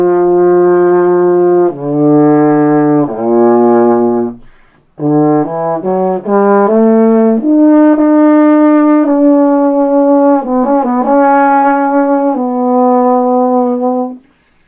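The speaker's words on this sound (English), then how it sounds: "But here is the sound of the baritone." A solo baritone horn plays a slow lyrical melody of sustained, warm brass notes with a few quicker passages, close and loud, with no talk over it.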